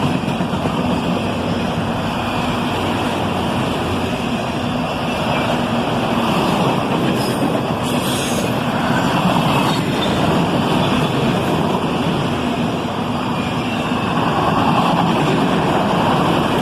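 A long freight train made up mostly of empty cars rolls steadily past with a continuous rumbling roar and faint metallic squeals, holding a fairly loud, even level throughout.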